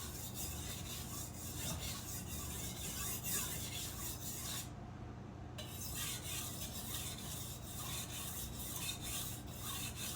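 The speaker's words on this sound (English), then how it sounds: "I like sharpening knife." A knife blade is sharpened with repeated close, steady scraping strokes that form a continuous rasping rub, broken by one brief pause midway before the strokes resume.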